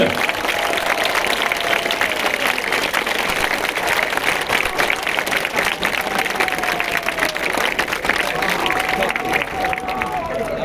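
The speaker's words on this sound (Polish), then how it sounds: "Raz jeszcze wielkie brawa na motoru Lublin!" A large crowd of speedway fans celebrating Motor Lublin applauds continuously, dense clapping mixed with cheering and an amplified Polish voice, steady and loud throughout.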